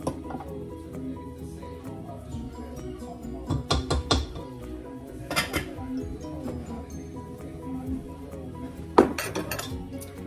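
A spatula folds chocolate chips into gluten-free batter in a bowl: soft scraping with scattered clinks and taps against the bowl, including a few sharper knocks, close and fairly quiet with no talking.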